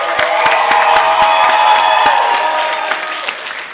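Loud, dense audience applause at a comedy benefit show, with cheering and whoops mixed in and a few sharp individual claps standing out, sustained throughout and tapering slightly at the end.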